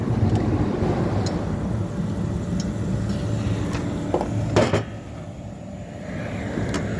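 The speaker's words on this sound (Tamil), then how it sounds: "காற்று வேறு ஓவர் அடிக்கி." Strong wind buffets the microphone in a constant low roar, with a few faint clicks and knocks in the background.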